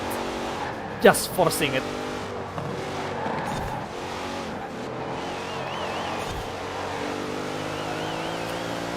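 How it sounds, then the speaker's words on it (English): Engines of SUVs racing in the video game Forza Horizon 4, a steady droning roar with a brief tire squeal early on, while someone talks over it. "you're just seeing a bunch of SUV trying to race each other"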